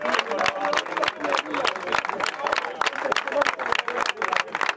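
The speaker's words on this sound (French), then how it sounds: "Vous entendez les applaudissements." Audience applause at a fishing weigh-in, steady dense clapping from a crowd with murmured voices mixed in throughout, fairly close and sustained.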